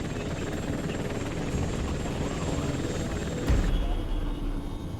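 A big Chinook helicopter flying near a steep, narrow mountain ridge, its rotors producing a loud, steady thumping drone that stays close and continuous throughout.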